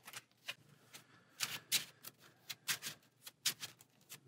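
Playing cards are shuffled at a tabletop card game, making a quick series of crisp riffling snaps and taps in a steady, close, fairly quiet rhythm with no talk.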